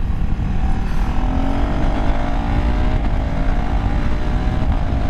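A 2024 KTM 390 Duke single-cylinder motorcycle runs hard while being ridden on a road, a loud, steady engine drone with slowly climbing revs and wind rush, and no talking.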